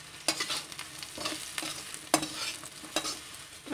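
Spices are stirred into potatoes frying in a pan for masala parwal, with soft repeated scraping strokes over a steady low sizzle and no talking.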